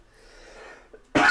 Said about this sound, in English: Excuse me, I keep coughing.